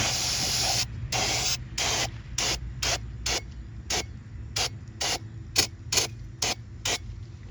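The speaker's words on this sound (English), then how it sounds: "We're going to take brake cleaner and just hose it out" Brake cleaner is sprayed into the wheel hub of an International 4400 truck. One longer hiss is followed by a dozen short, sharp bursts in an uneven rhythm, close and loud, with no one speaking.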